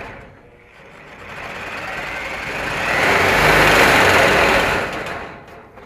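A power saw fitted with a hacksaw blade cuts through a clothes rod in a laundry room, a buzzing high-pitched rasp that swells louder mid-cut, then fades as the cut finishes.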